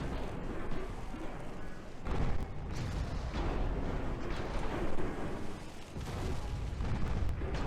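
Flash fire explosion aboard a warship in the naval battle game Ultimate Admiral Dreadnoughts, a dense, loud rumbling blast with booming swells that carries through the whole stretch, briefly dipping before surging again.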